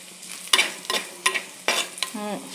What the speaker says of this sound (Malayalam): ഒരു മൂന്ന് സ്പൂണ് പൊടി മുളക് പൊടി ഇട്ടിട്ടുണ്ട് നമുക്കിതൊന്ന് ഇളക്കാം